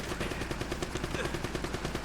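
Rapid, evenly spaced turret gunfire rattles in the PS4 remaster of Uncharted: Drake's Fortune, a fast mechanical stream of shots that stays moderately loud for two seconds.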